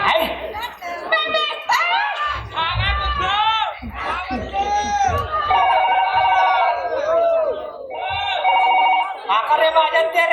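A mobile phone rings with a repeating melodic tone during a Chhattisgarhi comedy sketch, mixed with people talking and children's voices.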